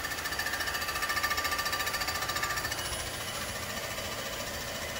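A Comec ACF200 milling machine cuts across an R56 Mini Cooper cylinder head at a reduced feed rate, a steady loud grinding chatter with a high whine, pulsing rhythmically and easing slightly toward the end, with no voices.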